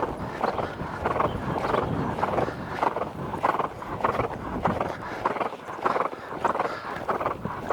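Horse hooves thudding in a steady rhythmic gait as the horse is ridden around a circle, soft repeated footfalls with a continuous background rumble.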